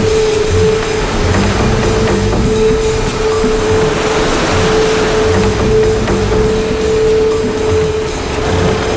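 Rough sea water churns and rushes steadily near the Port of Sabtang, a loud continuous wash mixed with a constant engine drone, close and without speech.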